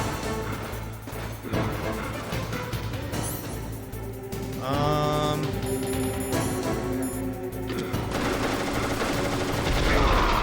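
Rapid FAMAS assault rifle gunfire in the PlayStation game Metal Gear Solid, loud bursts blended with game music and sound effects throughout the stretch.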